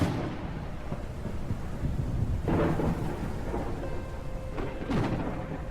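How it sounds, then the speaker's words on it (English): A thunderstorm in the game Out Of Ore: steady rain hiss under several sharp, close thunder cracks that roll off into rumbles, loud and without talk. "Stormy weather. I do love the storms in this game."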